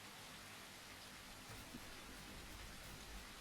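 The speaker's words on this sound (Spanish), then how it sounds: "Ha llovido todo este gameplay," Steady rain falls in the survival video game The Isle, a soft, even hiss of drops with faint low rumbles underneath, quiet and continuous.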